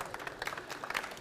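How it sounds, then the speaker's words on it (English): Applause greets an official at a climate conference photo and video contest ceremony, soft and distant scattered clapping from a crowd, brief and fairly faint. "Give her a round of applause."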